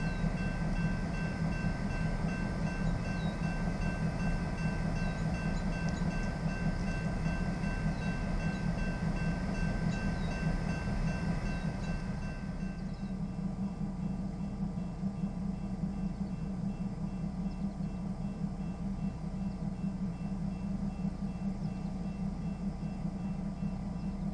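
Union Pacific 711, a switcher locomotive, idles at a distance with a steady low diesel rumble and faint mechanical hum that eases slightly halfway through, with no talk.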